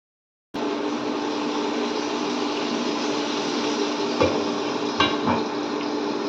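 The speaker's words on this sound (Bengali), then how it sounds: "পটলটা আমি একটা সাইড ভাজা হলে আমি একটু অপর দিক উল্টে দিলাম।" A steady sizzle of pointed gourd frying on low heat in a pan, with a couple of brief scraping clinks from a utensil.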